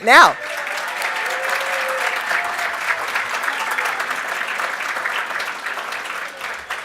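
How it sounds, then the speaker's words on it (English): Audience applause at a gala, welcoming newcomers: broad, steady clapping from a large crowd that keeps going for the whole stretch, starting right after a brief spoken word. "So let's give the newcomers a warm welcome and applause right"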